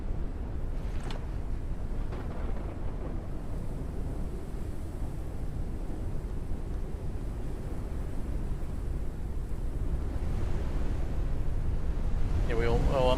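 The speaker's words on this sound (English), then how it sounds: "Caution. A storm is coming." Steady low storm wind roars through an airship in Forever Skies, a constant dense rumble across the whole stretch with faint creaks, while a voice talks over it.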